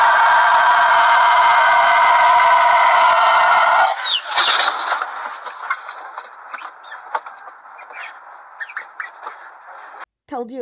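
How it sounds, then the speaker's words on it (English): A loud, strained rooster crow holds for several seconds, then breaks into scattered squawks, clucks and background noise, close and harsh. "I've never heard a rooster do that kind of cuckoo-doodle-doo before."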